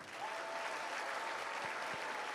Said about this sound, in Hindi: तालियां कुछ कम आ रही हैं।